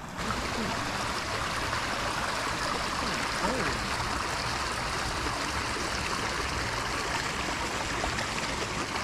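Small desert spring stream feeding toward Lake Mead, a steady close rush of trickling, burbling water that holds constant throughout, loud and alone with no talking.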